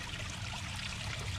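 Churning water bubbles and trickles steadily where an aeration disc stirs a garden pond, a continuous close rushing hiss without pauses.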